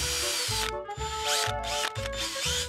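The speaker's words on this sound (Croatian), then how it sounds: "Bušilica je alat na struju koji služi za to da se napravi rupa u zidu." An electric drill boring into a wall runs in repeated short bursts, loud and close, with a grinding, ratcheting whir between pauses and no voices.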